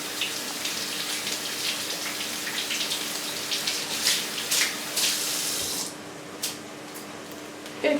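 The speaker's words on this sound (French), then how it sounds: "on rince notre persil" A kitchen faucet runs steadily as parsley is rinsed under it, with a constant splashing stream broken by uneven spatters as the herbs shift, then the flow softens near the end.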